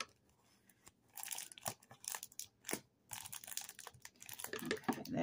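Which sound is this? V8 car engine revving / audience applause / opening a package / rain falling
opening a package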